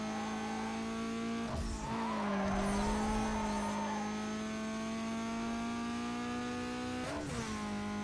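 Tires skidding from understeer in Need for Speed Carbon, heard as a sustained squeal over a steady engine drone, with short scrapes near the start and end.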